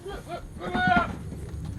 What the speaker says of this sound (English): That's only Ima the goat could make a sound as strange as that